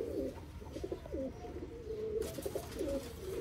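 A breeder's long-flight pigeon coos softly and repeatedly while being handled and shown, a low, throaty sound over a steady background murmur.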